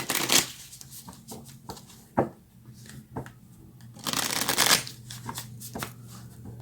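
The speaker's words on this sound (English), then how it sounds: "Now let's go ahead and get some more cards." Tarot cards being shuffled by hand, bursts of riffling and flapping with short pauses and light taps in between, close and fairly quiet, no talking.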